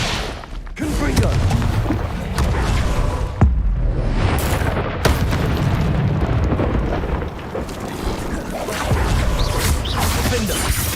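Confringo explosive spell blasts in the video game Hogwarts Legacy, loud booming bursts and rumbling crashes that repeat over several seconds, with a voice talking underneath.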